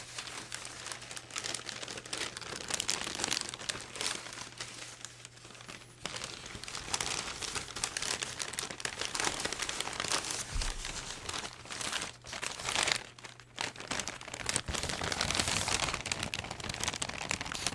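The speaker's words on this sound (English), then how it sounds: "I feel like it's been a little while since we've gotten any sort of crinkle sound on the channel." Thin white packing paper from a sneaker box crinkles and rustles continuously up close, with crisp crackling bursts and brief pauses, and no voices.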